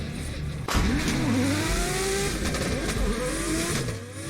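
A drift car engine revs hard and loud nearby, its pitch sweeping up and down in repeated surges, with rough exhaust noise throughout.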